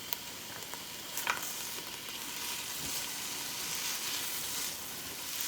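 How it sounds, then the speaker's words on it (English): A yellow sweet onion sizzles in a pan while being stirred, giving a continuous close hiss with soft scraping and occasional clicks of the utensil, steady and unbroken, with no voices. "you just start stirring that onion around"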